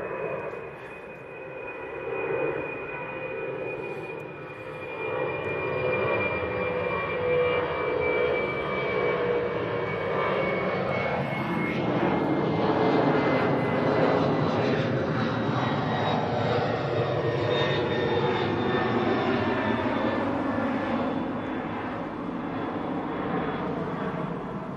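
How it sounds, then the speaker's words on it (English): A Boeing 767 jet departing East Midlands Airport produces a loud, continuous engine roar with a high whine, swelling as it climbs away and staying steady throughout. "And as that just departs to Leipzig."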